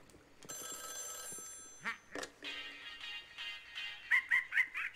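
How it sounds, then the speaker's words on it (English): A telephone rings in the Luigi's Mansion 3 video game: a bright electronic ringing tone held briefly, then a series of short repeated chirping rings toward the end, fairly quiet with game ambience around it. "Oh, the phone."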